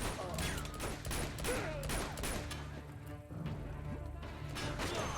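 Gunfire in the video game Uncharted: Among Thieves, rapid bursts of game shots and impacts layered over dense in-game action and music, steady and moderately loud throughout.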